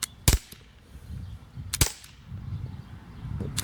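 Two sharp, close gunshots about a second and a half apart from a fixed-sight gun fired outdoors at a target roughly 10 metres away, over faint ambient rumble, with a softer distant crack near the end.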